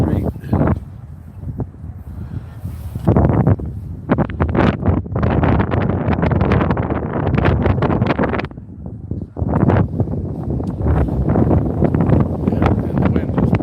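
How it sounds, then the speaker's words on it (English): Strong wind buffeting a microphone outdoors on a city street, loud rumbling gusts that rise and fall almost continuously, with brief calmer gaps. "And the wind just picked up."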